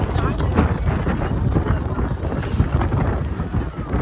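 Strong wind buffets the microphone in heavy, rumbling gusts in a town, with faint voices mixed into the roar.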